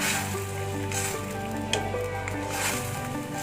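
Beef curry (gulai) being stirred in a pan, a low steady sizzle and bubbling with soft squishy stirring throughout.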